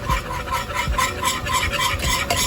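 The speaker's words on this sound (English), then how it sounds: "we are just going to whisk it" A whisk scrapes rhythmically through a flour and oil mixture in a pan, in quick, steady strokes with a light sizzle under them, close and moderately loud, no voices.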